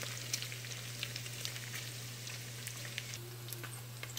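Pork browning in hot oil in a pan for Bicol Express, giving a steady close sizzle with scattered small pops, no talking.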